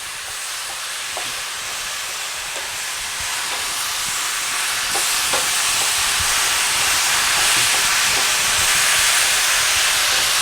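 A stir fry sizzles loudly and steadily in the pan as sauces are lightly mixed in, a dense, bright hiss that builds slightly over time, with faint scraping taps underneath and no talk.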